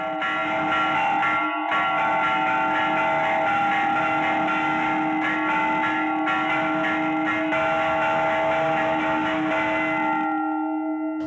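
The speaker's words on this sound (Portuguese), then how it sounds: "ao meio-dia, às 6 da tarde, é o toque chamado para reflexão" Church bells in a town in Minas Gerais, Brazil, ring the Angelus continuously, a bright sustained peal with ringing overtones that hangs in the air, then cuts off near the end.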